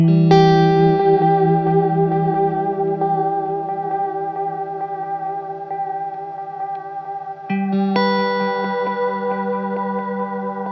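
Sustained electric guitar notes through a Flashback delay pedal ring out with long, layered feedback trails that keep repeating and stacking, then a new chord enters and blooms over the fading echoes.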